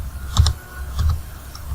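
Two quick pairs of computer mouse clicks sound close and crisp, separated by a short pause, with faint background hum and no talking.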